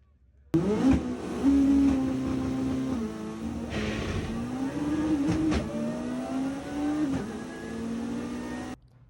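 Rebuilt Honda drag car blasts off on a qualifying pass at the Reunion event in Bradenton, its engine snapping to a loud, close roar and then climbing through gear changes before cutting off abruptly.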